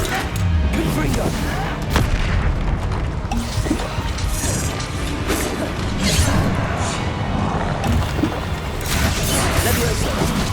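Repeated Confringo fire-spell blasts in a Hogwarts Legacy PS5 battle, with loud booms, cracks and crashing impacts layered over steady combat noise and spoken spell calls.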